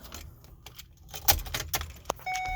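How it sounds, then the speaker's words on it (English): Keys jangle close by inside the cab of a Thor Freedom Elite motorhome built on a Ford chassis, a few loose metallic rattles and clinks followed by a steady electronic chime. "Get your keys."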